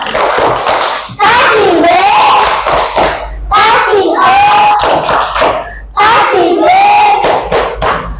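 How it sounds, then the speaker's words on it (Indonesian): Schoolchildren in a classroom chant a rhythmic clapping cheer in unison, with sharp hand claps marking the beat between loud group voices. "Oke, coba sekarang kita tepuk wow biar semangat."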